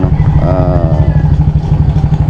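A motorcycle engine warming up, idling steadily and loudly up close, with a rapid, even putter throughout.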